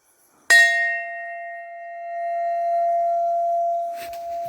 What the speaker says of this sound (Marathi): घंटा वाजू